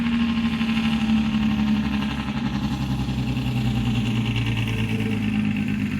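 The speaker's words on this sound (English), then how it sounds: "It's a very loud truck." A loud vehicle engine drones steadily at close range, a deep rumbling idle with no pauses and no voices.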